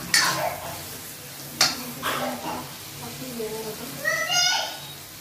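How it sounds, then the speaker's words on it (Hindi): Masala with fennel powder being stirred in a cooking pan, soft scraping and sizzling strokes at a moderate distance, with a few sharper utensil knocks and faint background voices. "इसको अच्छे से मिला लूंगी।"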